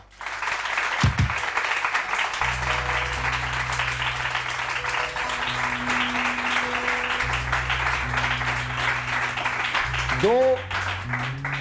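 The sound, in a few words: audience applause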